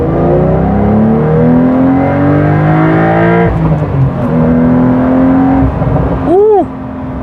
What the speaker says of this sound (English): the sport exhaust opens up, so you can hear more exhaust noise